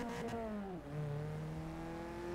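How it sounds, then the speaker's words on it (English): A car engine in the Forza Horizon 3 video game screams near its redline, a sustained tonal whine that drops in pitch briefly, then holds steady and loud without talk. "This car redlining. Doesn't it sound like I'm putting the gas"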